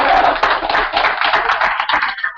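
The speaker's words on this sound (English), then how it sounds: "I think that deserves some applause right" Loud, close applause from a small group, brisk hand claps running continuously for a couple of seconds.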